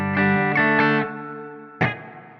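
A Blackstar ID:X 50 guitar amp plays electric guitar through a hall reverb effect: a few strummed chords ring out with long decaying tails, then a single chord sounds and fades away.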